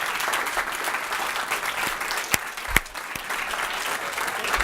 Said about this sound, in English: round of applause, Marcus Johnson